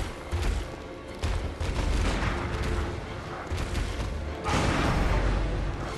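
Gunshots from a firearm in the video game Bloodborne, several heavy booming blasts in quick bursts, loud and close over a rumbling game soundscape.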